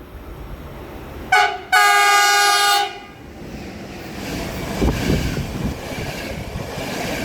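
Train horns blare at a railway line in Guntramsdorf-Thallern, one short honk followed by a longer sustained blast, loud and near, then the rumble of a passing train continues beneath.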